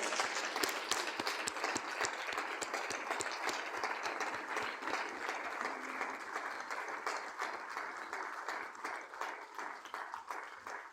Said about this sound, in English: Please, more of a standing ovation and applause for Manasseh.